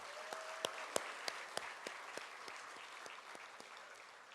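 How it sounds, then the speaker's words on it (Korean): Quiet, scattered applause from a small church congregation, individual claps landing unevenly and steadily over several seconds. "다시 한번 뜨거운 박수 부탁드리겠습니다."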